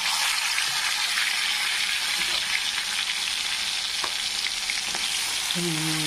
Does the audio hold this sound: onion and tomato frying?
yes